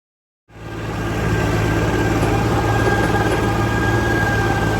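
After a moment of silence, a heavy tractor engine starts up and runs steadily with a deep, loud, continuous drone.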